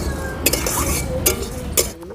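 A spatula stirs fried flattened rice (chire) with fried curry leaves in a pan, giving three sharp metallic scrapes against the pan over a soft, steady sizzle, with no talking.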